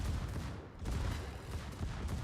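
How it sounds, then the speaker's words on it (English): Naval gunfire from a warship game thuds in several dull, muffled booms over a steady rumbling background, moderately loud with no talking. "There's some shots here"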